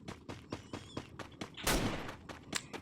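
Gunfire from a favourite gun in the Free Fire video game: a string of sharp single shots at a steady rhythm, then a louder, longer blast, with a few more shots after it, fairly close and clear.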